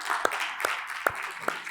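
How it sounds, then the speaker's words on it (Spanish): Applause from a congregation at a church youth service, a dense wash of clapping with a few sharper rhythmic claps standing out. "Ese fuerte aplauso"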